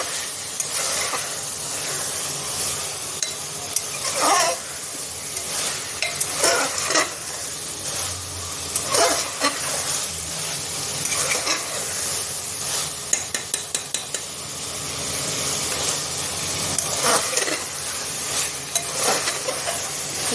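Mutton with spices stir-fried in a pot for mutton biryani, a continuous loud sizzle and hiss with repeated scraping stirs and clanks of a spoon throughout, no talking.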